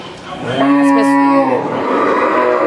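A cow in India moos loudly and close by, one long drawn-out low call rising and falling, with faint background ambience around it.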